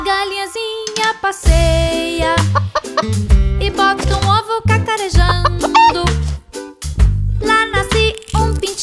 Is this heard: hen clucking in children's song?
yes